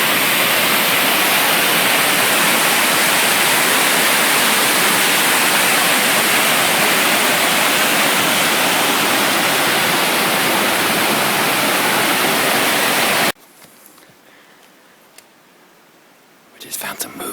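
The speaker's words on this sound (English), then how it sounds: "Another gorgeous river here." A gorgeous river beside the Appalachian Trail in Maine rushes loudly and steadily for most of the stretch, then cuts to quiet outdoor ambience with faint brief noises near the end.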